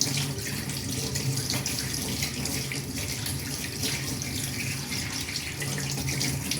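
Steady water running from a tap, a continuous broadband splash and hiss with a low hum underneath, no talking.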